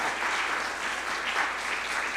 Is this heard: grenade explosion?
no